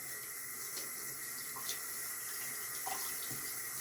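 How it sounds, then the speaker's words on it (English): Hot water pours steadily from a bathroom tap to soak a towel, a soft, even, continuous stream with faint drips and small splashes, no voices. "we're going to get our towel nice and wet. Hot. I like the hot, steamy water for doing my face."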